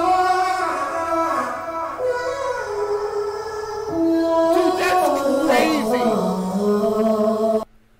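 A processed vocal sample treated with auto-tune, EQ, pitch shifting and reverb, sliding melodic sung tones that bend and glide downward, loud and continuous before cutting off abruptly near the end.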